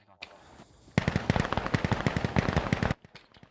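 Rapid automatic gunfire from a firefight in the tactical shooter Insurgency: Sandstorm, a dense burst of loud close shots running for about two seconds after a short quieter lead-in.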